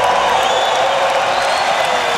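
Crowd cheering at a street skateboarding contest, a loud, sustained roar of many voices and whoops that stays even and dense from start to finish, with no single voice standing out.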